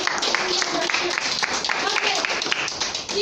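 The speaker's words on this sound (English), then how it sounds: "Claps for me." A small group in a conversation club classroom claps together, a brief patter of hand claps mixed with voices chatting over it.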